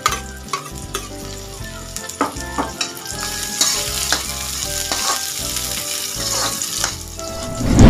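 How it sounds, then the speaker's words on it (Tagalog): Garlic and onion fry loudly in a pan, giving a dense, close sizzle with repeated rhythmic scraping and clacking as the mixture is stirred, and the sizzle swells near the end. "Isunod na po natin ilagay yung ating bawang."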